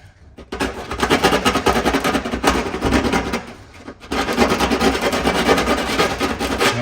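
Sandpaper rubs by hand around a freshly cut side marker hole in a 2002-2006 second-generation Honda CR-V fender, loud close rasping strokes in a steady back-and-forth rhythm with a short pause midway.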